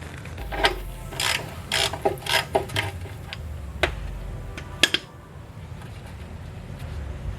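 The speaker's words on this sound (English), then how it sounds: "let me grab my ratchet here so we can take that thing off" A ratchet loosening the oil drain plug on a 1966 Ford Mustang with a 200 ci six, giving a few bursts of clicking pawl strokes over the first seconds, a sharp tick near the middle, then quiet shop background.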